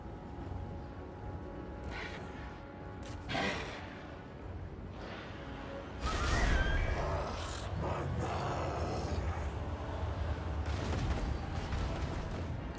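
Artillery shots and explosions in the video game Total War: Warhammer III, several booming impacts spread across the clip, with a louder blast midway and a battle din continuing under faint talk.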